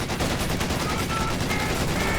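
Machine gun fire from an MG nest in the video game Company of Heroes 2 rattles on steadily as dense, continuous bursts of loud battlefield gunfire for the whole stretch.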